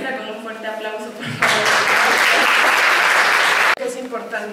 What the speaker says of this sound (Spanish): recibamos a la maestra con un fuerte aplauso